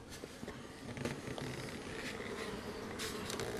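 Honey bees hum steadily in a full colony as the hive is opened, a dense continuous buzz close by with faint scattered rustles and knocks.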